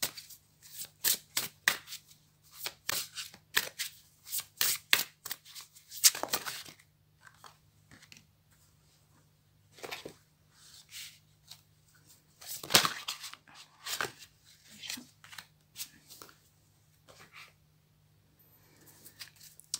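Tarot cards are shuffled and drawn by hand, making quick crisp riffles and snapping flicks in irregular close bursts, separated by short quiet pauses.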